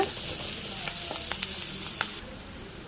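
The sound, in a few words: onions sautéing on high flame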